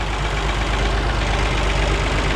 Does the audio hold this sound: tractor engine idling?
yes